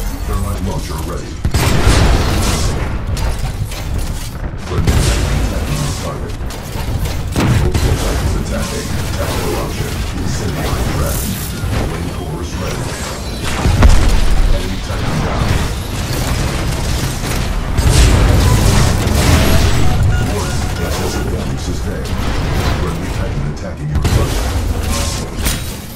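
Thermite launcher firing amid explosions in the video game Titanfall 2: loud, continuous battle noise with repeated heavy booms and bursts over a dense rumbling mix, with in-game voices talking throughout.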